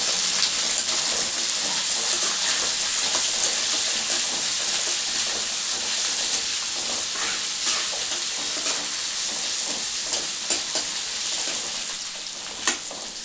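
Green chilies and curry leaves frying in a pan for a South Indian snack, with a steady close sizzle, bright crackles and occasional stirring clinks running the whole time.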